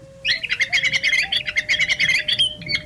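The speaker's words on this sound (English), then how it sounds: "The cave swallow, Petrochelidon fulva." A cave swallow gives a rapid run of close, loud chirps and squeaky twittering notes over a steady faint low tone.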